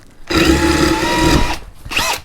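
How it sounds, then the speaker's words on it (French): A Bosch GSR 18V-150C cordless drill bores into a breeze block, with one steady, loud whining burst lasting over a second, then a short second spurt of drilling. "On va essayer de percer le parpaing avec aussi la même mèche."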